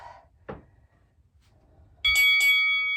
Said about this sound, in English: Ignore this bell.